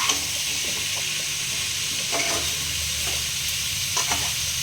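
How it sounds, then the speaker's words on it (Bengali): Potatoes and papaya frying in a pan, a continuous close sizzle with occasional soft scrapes and stirring clicks from a spatula. "আলুটাও দিয়ে দেবো। এটা আমি ভালোভাবে কষে নেব ঢাকনা দিয়ে।"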